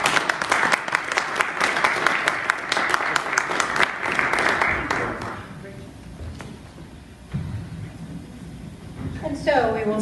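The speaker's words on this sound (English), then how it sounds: "let's give him a round of applause" Audience applause at a candidates forum, a dense burst of clapping lasting about five seconds before fading into room noise and quiet speech.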